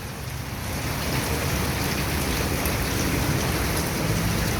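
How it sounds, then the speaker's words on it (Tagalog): Steady, dense rain pouring down and spattering on surfaces in a flooded alley in Apalit, Pampanga, a continuous close hiss with no voices. "Hindi na nagsawa ang ulan."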